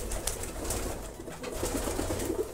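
Homing pigeons at a loft coo softly and steadily in low, murmuring bursts that repeat close by. Faint rustling sits in the background, and no one speaks.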